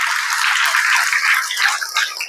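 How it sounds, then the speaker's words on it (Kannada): An audience at a government primary school event claps loudly in thanks to the donors who built the school's building: dense, continuous applause from many hands, steady throughout. "ಜೋರಾಗ ಚಪ್ಪಾಳೆ ಮುಖಾಂತರ ಧನ್ಯವಾದ ತಿಳಿಸ್ತಾ ಇದ್ದೀನಿ"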